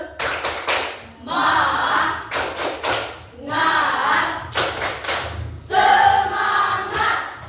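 A group of students claps a rhythmic pattern in sharp bursts of loud synchronized hand claps, alternating with shouted chanting voices in a classroom.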